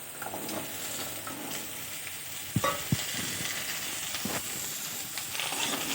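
Potato pieces fry in hot oil with a soft, continuous sizzle and hiss, fairly quiet and close, broken by a couple of brief clinks from a utensil; no voices.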